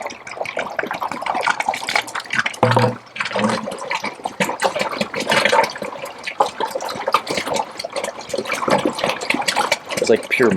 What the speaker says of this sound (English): First thing you want to do is drain out the water.